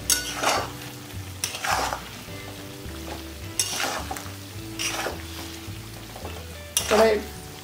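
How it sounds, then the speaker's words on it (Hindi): Spiced mixed vegetables for achar tossed in a very hot kadhai, a low steady sizzle punctuated by five or so separate scraping turns of a ladle against the metal. "कढ़ाई बहुत ही गर्म है तो इसके लिए दो बार ऐसे अलट पलट कर लेती हूँ"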